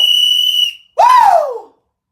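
A small toy baby doll whistle blown twice close up: first a steady shrill tone held for under a second, then after a brief gap a second blast that swoops up and slides down in pitch before cutting off.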